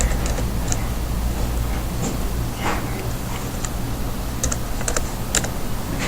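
Someone types a command on a computer keyboard, with quick, uneven key clicks close by over a low steady hum, and a few sharper taps toward the end.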